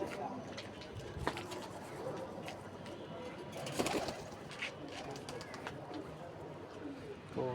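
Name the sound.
pigeon cooing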